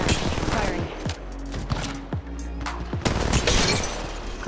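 Heavy gunfire in Apex Legends Mobile, bursts of rapid automatic shots and sharp single cracks with brief pauses between volleys, loud and close, with short clipped voice callouts mixed in.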